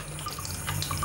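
Tap water runs in a short, steady stream, close and moderately loud, with a few faint drips and splashes and no talking.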